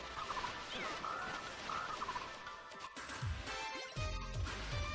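Bird squawks from the Castlevania Rondo of Blood video game, a few short cries that stand out over a busy, loud game soundtrack with dense music and effects.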